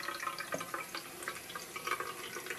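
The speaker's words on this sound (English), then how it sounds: "we're gonna fill the unit with water." Water running into the tank of an ABOX water flosser, a soft trickling and dripping fill that continues steadily at close range with no talking.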